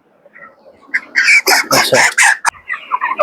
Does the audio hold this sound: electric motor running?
no